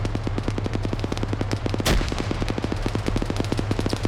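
A rapid video-game firefight in which automatic gunfire rattles in a steady, dense stream of closely spaced shots, broken by one heavier burst of noise midway, loud and continuous with no talking.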